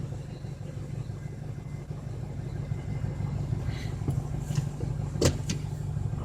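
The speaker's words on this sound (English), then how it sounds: "Get out of my garage here so I can idle for a minute." A 2006 Ford 6.0 Powerstroke diesel truck idles steadily with a low, constant rumble, a few brief clicks and knocks rising over it near the end, with no talk.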